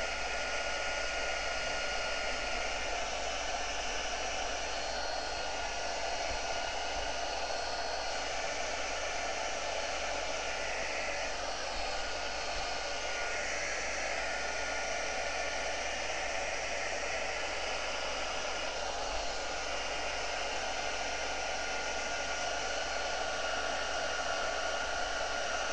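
A hair dryer blows steadily for close to half a minute to dry wet Brusho watercolour paint where yellow runs into blue, a constant loud whooshing hiss with a low motor hum beneath and no talking.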